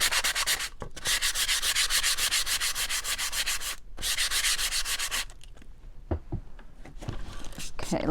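Rhythmic sandpaper scrubbing across painted wood to distress it, quick back-and-forth strokes, close and steady, then a pause followed by a few light taps and brushing sounds.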